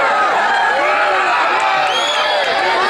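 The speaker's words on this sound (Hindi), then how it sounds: "मैं गुजारिश कर रहा हूँ जनाब शाहिद गौहर साहब से तालियों से इस्तकबाल करें" Crowd at a poetry mushaira applauding and cheering to welcome poet Shahid Gauhar, a steady dense wash of clapping and voices with no breaks, loud and close.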